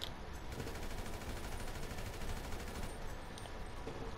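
Rapid gunfire from GTA 5 Online's Resurrection rivalry mode, a dense continuous crackle of shots that stays steady and loud for the whole stretch, with no voices over it.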